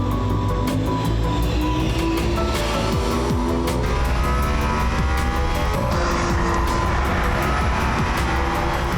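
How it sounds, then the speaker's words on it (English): A Mercedes-AMG One hypercar drives laps at Silverstone, its engine note loud and continuous with shifting pitch and faint tire noise, heard without talk. "Driving Silverstone in the Mercedes-AMG One will give George an idea of what it will feel like in a real F1 car"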